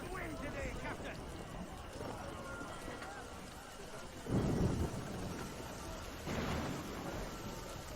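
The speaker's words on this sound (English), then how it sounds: "And it's raining this time." Rain falling in a video game with two deep rolls of thunder swelling midway and near the end, the weather ambience sitting low beneath people talking.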